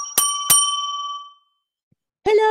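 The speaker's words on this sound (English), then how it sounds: "A bell on the front counter says, ring for service." Two bright metallic dings from a service bell on a police station front counter, each ringing out and slowly decaying, followed by silence and then a voice beginning to speak.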